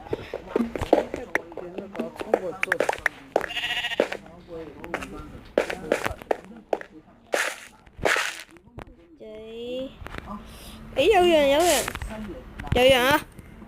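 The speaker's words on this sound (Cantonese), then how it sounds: "各位觀眾，終於有羊啦！" Sheep bleating in the video game Minecraft: several short, wavering bleats, close and clear, with the last ones clustered near the end among scattered clicks and game sounds.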